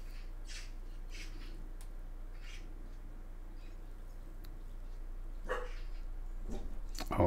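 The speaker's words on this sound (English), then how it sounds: "Dog, don't start barking." A dog barks a few times at a distance, short sharp yelps spaced out over several seconds against a quiet background with a low steady hum.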